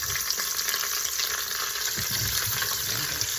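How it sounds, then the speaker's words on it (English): Lamb pieces searing in hot fat in an Instant Pot, a loud steady crackling sizzle close up with occasional stirring scrapes, no voices. "Sear them on all sides."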